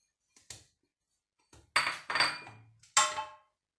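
Moroccan layered msemen dough is set into a metal oven pan, giving several sharp clanks and knocks spaced across a few seconds with quiet gaps between them.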